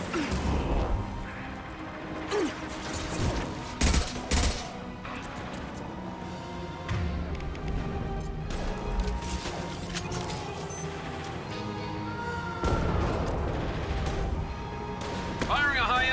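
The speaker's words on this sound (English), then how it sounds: "Firing a high-impact shot." Sci-fi weapons from Mass Effect Legendary Edition fire in scattered shots and impacts across a chaotic combat scene, mixed with whooshes, crashes and music, while characters talk throughout.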